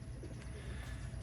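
Pigeons coo softly amid a steady, noisy outdoor backdrop, the low murmuring calls faint and somewhat distant.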